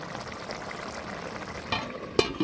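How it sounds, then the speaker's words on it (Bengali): Small chela fish curry bubbling to a boil on a clay stove, a soft steady simmering hiss with faint bubbling, then a couple of brief louder clinks or pops near the end. "তরকারিতে বলক এসেছে"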